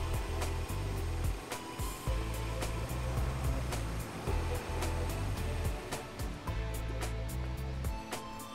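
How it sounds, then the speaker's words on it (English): The lower boom of a Teupen lift telescopes out, bringing a steady hydraulic and motor hum, close and continuous, punctuated by regular sharp clicks and ticks. "Push the first control lever at the front left forward. The lower boom is telescoped out."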